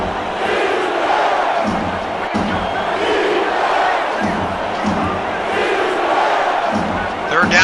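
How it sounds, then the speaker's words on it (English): A football stadium crowd roars and cheers as fans rise to their feet during a Cleveland home game on fan appreciation night, a loud, steady wall of noise that swells and fades across the whole stretch. "And the crowd rises to their feet."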